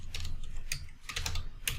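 Quick, faint keystrokes on a computer keyboard, several soft clicks in short irregular bursts with no voice.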